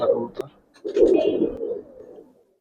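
Gribaz and coloured pigeons cooing up close in a loft, soft throaty coos spread across a couple of seconds with a brief sharp scratch early on and someone talking in Bengali over the birds.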